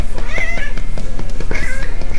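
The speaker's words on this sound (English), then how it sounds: "If I pat her belly, she meows." A pet cat meows repeatedly as its belly is patted, with several short, close cries spread across a couple of seconds.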